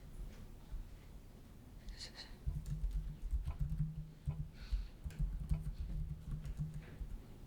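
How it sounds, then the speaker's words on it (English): Typing on a computer keyboard: quiet irregular clicks, then denser bursts of rapid keystrokes in two runs, close and faint with no talk over them. "Because I hate typing."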